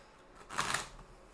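A short, soft riffle of cards being shuffled, a brisk papery flutter lasting under a second in a quiet room.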